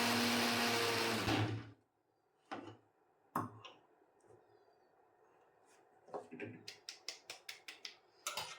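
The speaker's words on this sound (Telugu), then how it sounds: "మళ్ళీ మిక్సీకి వేస్తున్నా" An electric mixer grinder grinding turmeric for kumkuma powder roars loudly for under two seconds and then cuts off, followed by scattered clicks and light knocks of the jar and lid.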